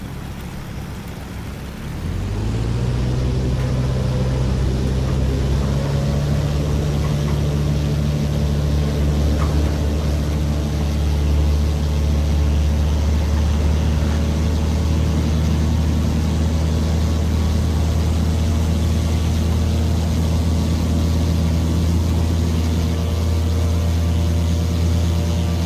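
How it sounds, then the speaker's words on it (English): Aircraft engines spool up for takeoff in the X-Plane 12 flight simulator at St Barts, a loud steady drone with low harmonic hum that rises after a quiet start and holds alone for the rest of the run. "As we take off over the bay"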